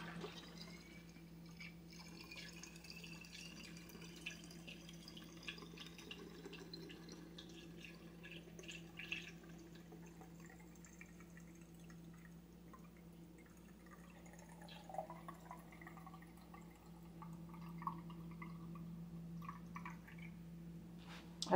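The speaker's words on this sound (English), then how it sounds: "So we're going to go ahead and fill this" Tap water running into a plastic cleaning spray bottle, a faint steady trickle with soft drips and gurgles over a low background hum, continuing quietly for about twenty seconds.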